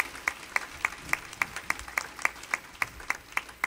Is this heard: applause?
yes